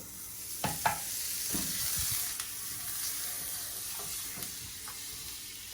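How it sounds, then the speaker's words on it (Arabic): Fish fries in butter with a creamy sauce in a pan, giving a steady close sizzle with several sharp scrapes and clinks of a utensil stirring, and no voices. "وغادي نبداو نشحروا في الحوت"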